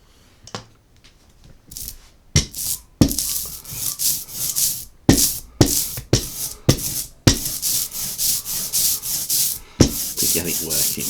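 A printmaking ink roller works thick ink back and forth across a slab, making sticky, rasping rolls in irregular bursts, close and fairly loud with short gaps between strokes.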